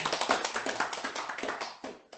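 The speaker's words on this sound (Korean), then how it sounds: "여기 소수 인원으로 박수로" A small audience at a public-interest seminar applauds a speaker, with a brief burst of clearly separate, close hand claps that thins out toward the end.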